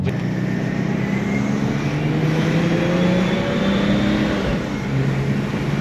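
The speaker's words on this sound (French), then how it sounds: "En fait tu sens que le couple il pousse, mais tu sens que le moteur après il s'étouffe" A BMW E36 325 TDS diesel engine hums steadily and climbs in pitch as it accelerates past about 2200 rpm, heard from inside the car with a constant low rumble throughout.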